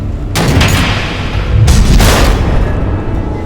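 Missile explosions in the Batman: The Enemy Within video game, heard as loud, heavy booms and rumbling blasts in two close bursts over a sustained low roar.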